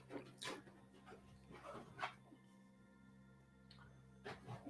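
A dog shifts its position nearby, making a few faint, soft rustling and thumping bursts separated by quiet pauses.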